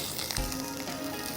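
Garlic, onion and ginger paste sizzles in hot oil, giving a steady close hiss with a brief louder burst partway through, no voices.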